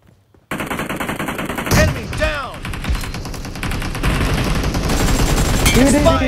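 Gunfire in a competitive shooter match during scrim gameplay: after a brief quiet start, loud rapid automatic bursts run almost continuously, up close and dense, with a few distinct whizzing tones over the rattle.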